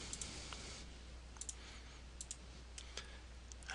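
A computer mouse clicks quietly while objects are handled in PowerPoint 2010, giving a scattering of sharp, soft, isolated clicks at uneven intervals over a low steady hum.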